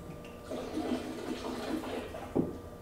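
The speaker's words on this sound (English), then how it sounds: "We're going to do the neck pour here real quick." Rye whiskey poured from the neck of a bottle into a glass, a soft continuous liquid trickle running for a couple of seconds with a brief louder splash near the end, close and fairly quiet.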